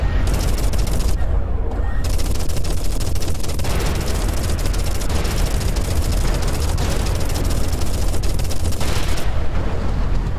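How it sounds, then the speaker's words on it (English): A weapon firing continuously in the space game Everspace 2 makes a dense, unbroken roar of rapid shots with booming impacts mixed in, loud throughout. "we can sustain fire for a very long time compared to a lot of our previous weapons"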